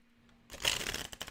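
A deck of tarot cards being shuffled by hand, a quiet lead-in followed by a brisk burst of riffling and flapping card noise, close and fairly loud, tapering off with a few final flicks.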